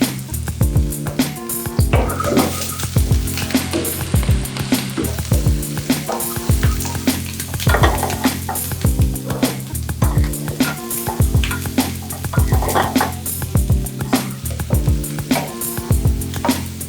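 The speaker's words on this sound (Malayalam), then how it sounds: "അതോടൊപ്പം പച്ചമുളകും 2 അല്ലി വെളുത്തുള്ളി, പച്ചമുളകും കറിവേപ്പിലയും കൂടി ഇട്ട് കൊടുക്കാം." Shallots, green chilies, garlic and curry leaves frying in hot oil for a Kerala-style masala rice, a steady close sizzle running throughout with light crackles, while soft background music plays underneath.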